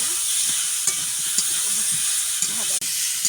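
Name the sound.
potatoes sautéing in spices in a pan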